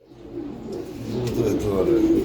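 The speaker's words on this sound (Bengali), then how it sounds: "কুকা কবুতর দুটো ডিম নিয়ে বসে আছে" Low, soft cooing of pigeons close by, a few rounded throaty calls growing slightly louder over a couple of seconds.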